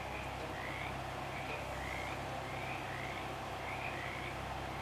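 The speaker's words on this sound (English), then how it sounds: "A frog hops up to you." A frog in the swamp of the game Shadows Over Loathing croaks repeatedly at an even pace, five or six rasping calls over a constant hum of background ambience.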